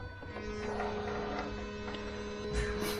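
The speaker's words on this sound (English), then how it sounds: "The pump is definitely noisier than before" The low-pressure diesel fuel pump of a Land Rover Discovery 3 runs with a steady electric hum and whine, close and continuous, with a brief clunk near the end.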